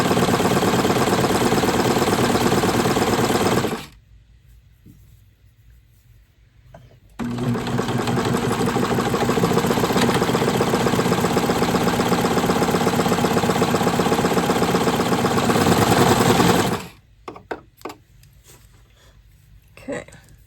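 A sewing machine stitches down the back seam of a doll shirt, a loud, rapid, continuous whirring run that stops, starts again for a longer stretch, then halts, with quiet talk in the pauses.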